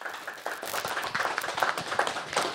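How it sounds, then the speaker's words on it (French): Applause from guests in the municipal council hall of Montmoreau: a modest group claps in uneven, distinct bursts, close and moderately loud, with individual hand claps standing out. "Merci des applaudissements dans cette salle du conseil municipal de Montmoreau"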